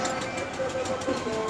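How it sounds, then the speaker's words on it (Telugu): A slow amusement park ride train gives a steady low rumble and mechanical hum, with faint clicking. Voices murmur quietly in the background. "మేమైతే ట్రైన్ ఎక్కామండి"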